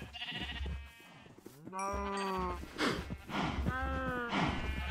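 Cows in the video game Minecraft give several drawn-out moos and bleat-like calls in close succession, with game sounds and a quiet background between the calls.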